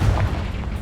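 A Confringo fire blast spell cast in the video game Hogwarts Legacy, heard as a deep, heavy boom with a low rumble that lingers under continuous combat noise.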